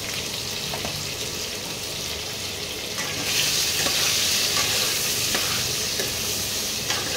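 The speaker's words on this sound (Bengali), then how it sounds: "আলুর মধ্যে সামান্য নুন আর হলুদ এই দুটো দিয়ে ভাজতে হবে। একটু ভেজে নিতে হবে আলুগুলোকে।" Potatoes seasoned with salt and turmeric fry in oil with a loud, continuous sizzle, growing brighter and stronger partway through, alongside occasional stirring scrapes and no voices.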